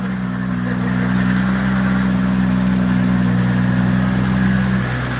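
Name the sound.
high-powered car engine idling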